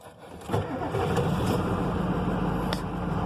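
A 1993 IDI diesel engine turns over briefly on a gear reduction starter, then catches and settles into a loud, steady idle up close.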